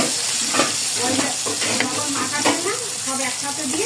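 Hilsa fish frying crisp in hot oil, with loud continuous sizzling and bubbling crackle close up and faint stirring noises, with no clear speech.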